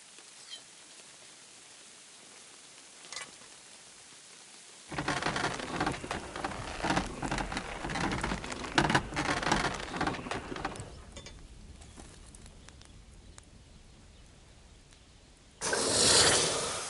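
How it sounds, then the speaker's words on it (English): Downpour in Kingdom Come: Deliverance II, starting quiet, then a heavy, steady rain hiss that swells and fades, with a sudden loud burst near the end; no speech. "Pissing down rain again."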